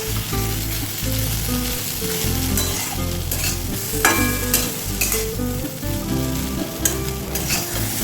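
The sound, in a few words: frying bitter gourd and potato in a pan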